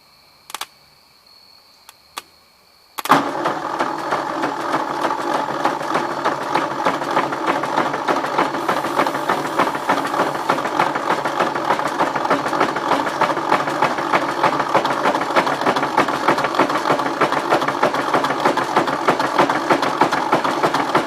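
A 1953 Ford Jubilee tractor engine catches after a couple of brief cranking attempts and then settles into a steady, loud, evenly pulsing run that holds for the rest of the time.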